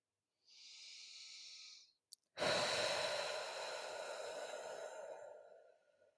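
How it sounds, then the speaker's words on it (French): Slow, relaxed breathing during a relaxation exercise: one soft inhale, a brief pause and a small click, then a longer, louder exhale that gradually fades, close to the microphone. "Et on respire."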